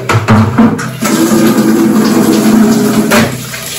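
Water pours steadily in a continuous splashing stream while hand washing clothes, lasting a few seconds, fairly close, then tapers off near the end.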